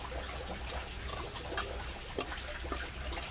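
A small decorative water cascade beside a white Cattleya intermedia orchid in a ceramic dish trickles and splashes steadily and close, with a constant bright babbling over a low background hum.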